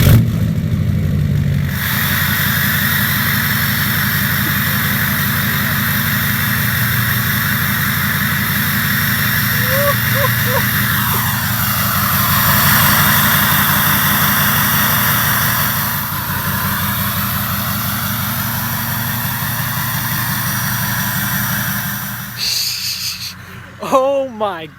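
A straight-piped 6.0 Powerstroke diesel truck engine roars steadily after a cold start. The loud, continuous rumble runs from the first seconds almost to the end, with faint tonal sweeps passing over it before a brief rustle as it cuts off.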